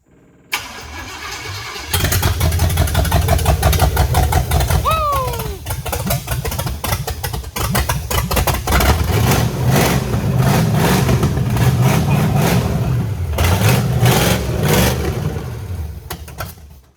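A 1962 Cadillac with a swapped 500 cubic inch V8 cranks briefly, then catches and settles into a loud, steady, rumbling idle, close by, with faint voices behind it.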